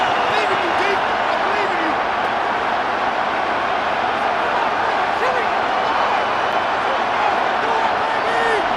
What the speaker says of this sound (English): What about this crowd getting even louder before third and 10?